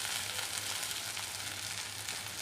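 Onion, green chilli, capsicum and carrot sauté in a pan with a steady, even sizzle and faint hiss, continuous and fairly quiet throughout.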